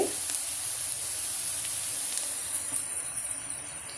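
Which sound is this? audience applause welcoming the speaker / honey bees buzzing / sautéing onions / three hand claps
sautéing onions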